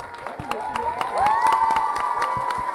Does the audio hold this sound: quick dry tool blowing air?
no